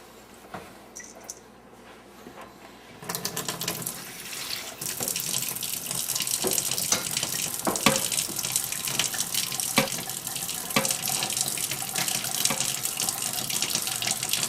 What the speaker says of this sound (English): Water is added when you're mixing the spice mix with the grain.